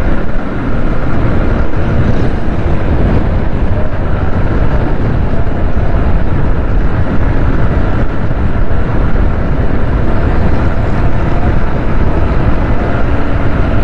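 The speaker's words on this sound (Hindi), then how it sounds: "बहुत तेज़ चला रहा हूँ मैं मोटरसाइकिल ताकि जल्द से जल्द घर पहुंच सकूं।" A motorcycle ridden fast along an evening road gives a constant loud roar of buffeting wind and engine noise with no breaks and no voices.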